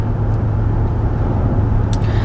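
Inside a car driving on a road, a steady low engine and tire rumble fills the cabin at a loud, even level, with a brief faint hiss near the end and no talk.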